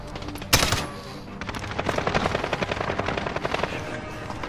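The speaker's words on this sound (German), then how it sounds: "Ich stehe hier unter Beschuss!" Video game gunfire in a battle, a sharp blast followed by sustained rapid automatic bursts, loud and close, continuing for several seconds.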